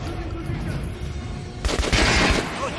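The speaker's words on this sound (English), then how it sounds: "Try shooting for the center of the regular dummy's chest." Gunfire aimed at training dummies in Metro Last Light, a burst of sharp shots breaking out partway through over a steady hum of background noise.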